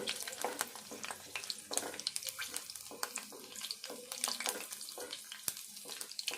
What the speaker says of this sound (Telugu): ఆవాలు, ఇప్పుడు కొంచెం ఇది వేగాలి